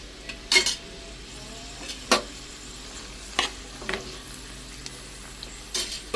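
Dried prawns and cabbage cooking in oil in a pan, with a soft steady sizzle and sparse, spaced clinks and scrapes of a utensil against the pan.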